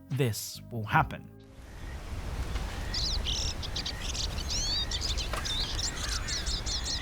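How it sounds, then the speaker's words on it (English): Birds sing in a forest in Red Dead Redemption 2, with bright chirps and tweets scattered over a steady ambient wash. Brief speech opens the moment before the birdsong takes over. "Whenever you're in a forest-like setting, you can hear the birds singing as they go about their day."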